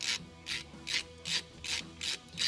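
Ratchet loosening an 11 mm brake caliper bolt on a C6 Corvette, giving a steady series of about seven rhythmic clicking strokes roughly every third of a second, close and distinct with no talk.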